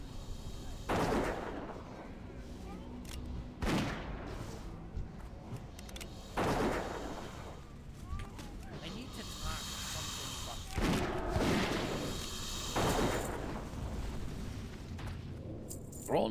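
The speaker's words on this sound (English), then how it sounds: "Bronze bombs." Bronze bombs exploding in World of Warcraft, several sharp, loud blasts spaced a few seconds apart over a continuous game background, with talk heard throughout.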